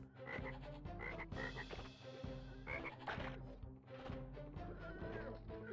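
A frog croaks in the PlayStation video game R-Type Delta, with repeated croaks mixed into busy, steady game music and effects at a moderate, even level.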